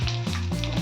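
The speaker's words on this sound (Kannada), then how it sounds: "ಪ್ರೌನ್ಸ್ ಫ್ರೈ ಮಾಡಿರೋ ಆಯಿಲ್ ಇದು ಬಿಸಿಯಾಗಿದೆ. ಅದಕ್ಕೆ ಬೆಳ್ಳುಳ್ಳಿ ಹಾಕೋಣ, ಕಟ್ ಮಾಡಿರೋದು." Chopped garlic hits hot oil left from frying prawns, with curry leaves already in the pan, giving a loud, steady close sizzle with a brief stirring clatter partway through.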